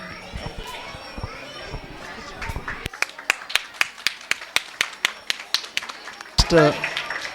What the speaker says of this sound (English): So all give a big round of applause.